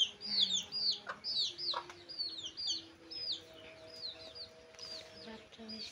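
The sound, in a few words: chickens clucking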